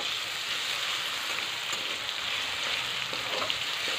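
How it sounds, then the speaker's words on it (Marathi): Potato pieces frying in hot oil in a pan make a steady, dense sizzle that holds at an even level throughout, close and fairly loud, with no talking. "बटाटा सॉफ्ट होईपर्यंत आपण याला तळून घेऊया"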